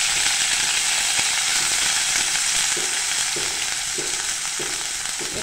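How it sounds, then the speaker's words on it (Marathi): Tender guar bean pods fry and crackle steadily in hot oil with tempering, a loud continuous close-up sizzle with faint rhythmic stirring beneath it. "त्या शेंगा मी आता ह्या तेलामध्ये छानपैकी अशा तडतडीत खरपूस अशा परतून घेणार आहे मी"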